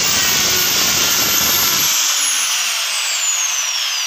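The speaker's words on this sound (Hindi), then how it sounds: "मतलब जो ड्रिल बिट है उससे थोड़ा सा बड़ा होल करने की कोशिश होती है।" A power drill boring a hole into a wooden drawer during a repair, a loud whining motor that spins down partway through, its pitch sliding steadily lower.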